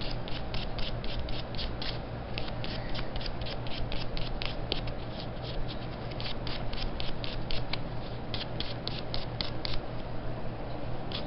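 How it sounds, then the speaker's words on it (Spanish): Rapid rhythmic rasping of a nail file and buffer on fingernails during a manicure, a close, brisk back-and-forth scratching that repeats steadily with no talking. "Ya tienes tus uñas limpias, lijadas y suaves."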